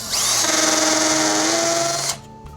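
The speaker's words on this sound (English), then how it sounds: "I'm going to drill some pilot holes first because it's a lot easier and cleaner to use a smaller drill bit at first" A drill on its fastest setting with hammer action bores a small pilot hole for a Master Lock key safe. One close, loud, high whirring burst lasts about two seconds, then cuts off sharply.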